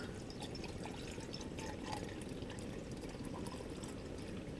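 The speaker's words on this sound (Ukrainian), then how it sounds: "Ось и заливаем водичку" Water is poured during ice fishing for roach on a frozen river in February, a quiet, steady splashing stream that runs evenly throughout with no other sounds.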